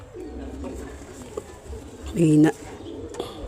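A weak, sick pigeon gives a short, close, throaty coo, while someone talks in Filipino before and after it.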